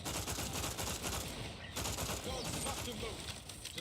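Rapid assault rifle fire in Outer Worlds 2, a dense continuous burst of gunfire with heavy crackle throughout, loud and close, with faint game voices mixed underneath.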